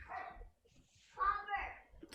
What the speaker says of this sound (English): my two dogs are barking.